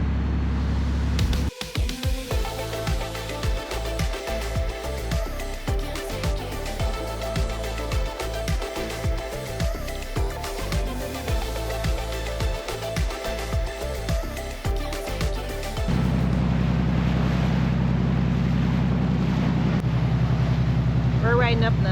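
Boat engine droning steadily while heading out from shallows to deep water off Grand Turk, with wind behind and falling seas; a dense, rhythmic mechanical pulse runs throughout, then shifts to a smoother, louder wash of wind and engine near the end.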